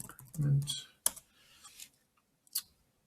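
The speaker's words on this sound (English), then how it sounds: "you might just type in, let's say, some type of keyword" Brief clicks and taps of typing on a computer keyboard while searching in Gmail, a few quiet strokes spread apart, with a voice speaking at the start.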